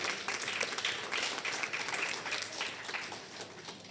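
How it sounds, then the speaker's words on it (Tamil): An audience at the opening ceremony of a pen-pal association branch in Bahrain applauds the participating children, a steady, moderately distant wash of many hands clapping. "அனைவருக்கும் பலத்த கைத்தட்டல்களை கொடுத்து விடலாம்"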